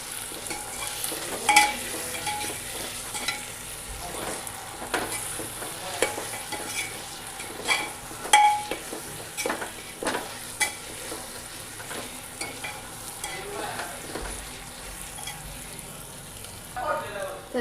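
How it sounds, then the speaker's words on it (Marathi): Rice being stirred together with homemade red chilli chutney in a pan for masala bhat, a long run of irregular scraping and clinking strokes over a faint sizzle. "ही आपल्याला भातात टाकायची आणि सगळं मिक्स करून घ्यायचं आहे"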